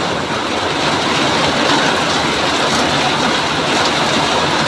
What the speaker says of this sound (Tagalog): Lakas na ng ulan dyan.